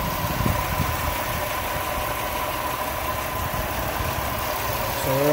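A Chevy Impala engine with a bad pulley bearing runs at idle, a continuous close mechanical drone with a faint whine mixed in, steady throughout.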